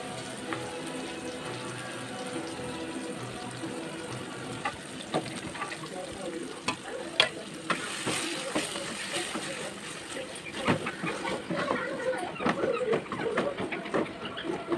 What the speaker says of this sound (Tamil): வெங்காய தக்காளி நல்லா வதங்கிடுச்சுங்க. நான் அரைச்சி வச்ச பேஸ்ட்டை போட்டாங்க.